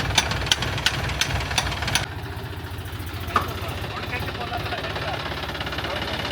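A tractor's engine runs steadily nearby, a low rumbling drone with a few sharp knocks early on, while someone talks over it.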